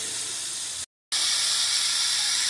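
Beef pieces browning in a frying pan give a steady close hiss of searing, broken by a brief silent gap near the one-second mark, then resuming just as loud, with no talking.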